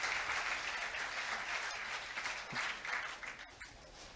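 A crowd applauds steadily at a bowling finals, a dense, even wash of clapping that holds for several seconds and fades slightly toward the end.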